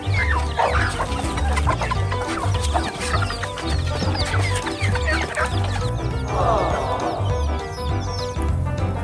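Chickens cluck steadily close by, a dense run of fowl clucking and squawks with a farmyard bustle and no talking.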